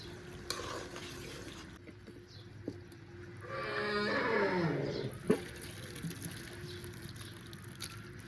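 Ground cumin paste is stirred into a tengra fish curry in a pot, with a faint wet scraping swirl midway and a single sharp clink of the spoon against the pan near the end, in a quiet kitchen.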